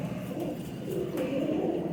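A pair of pure white Indian Shahjahanpuri pigeons at a market coo softly in repeated low, throaty phrases, close by over faint background hum.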